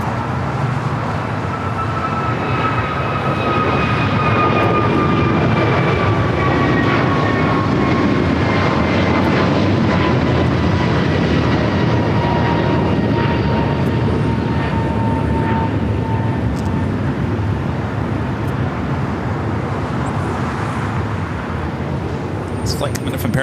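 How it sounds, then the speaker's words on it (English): American Airlines flight 1143 taking off from LAX bound for Honolulu, a loud sustained jet engine roar with gliding whine tones that slowly fade as the aircraft climbs away, while a voice talks over it. "Flight just taken off is heading to Honolulu. American Airlines flight 1143."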